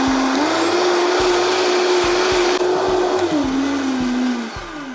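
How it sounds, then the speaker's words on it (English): High-speed blender puréeing broccoli soup with broth, a loud continuous motor whir with a steady pitch that dips and rises slightly before winding down at the end. "we are going to blend this until it's creamy"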